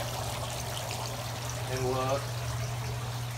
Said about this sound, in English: Underneath these rocks, there's actually another pump. Another pump? That's shooting water out this direction.